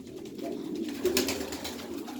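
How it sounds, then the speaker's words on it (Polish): An old breeding pigeon coos in a low, steady, droning rumble that runs without a break, close by, with a slight swell in the middle. "Stary gołąb rozpłodowy mój."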